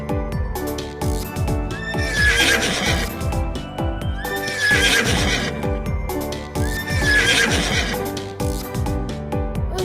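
A horse neighs loudly three times in a row, each whinny rising and then falling away, with steady background noise between the calls and no one speaking.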